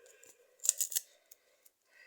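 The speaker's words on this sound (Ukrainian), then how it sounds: "І тепер розпаковуємо пакетик." A small plastic packet being opened by hand at close range, with a quick cluster of crisp crinkling, snipping rustles followed by a few faint clicks in a quiet room.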